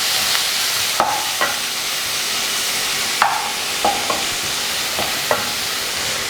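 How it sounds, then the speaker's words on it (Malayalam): Onions sautéing in hot coconut oil, a steady sizzle that runs throughout, broken by several sharp stirring scrapes at irregular intervals, fairly close. "വെളിച്ചെണ്ണ നന്നായിട്ട് ചൂടായി വരുമ്പോൾ നമുക്ക് ഇതിനകത്തോട്ട് ഉള്ളി ചേർത്ത് കൊടുക്കാം."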